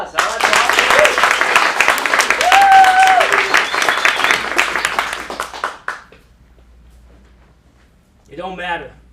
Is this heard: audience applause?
yes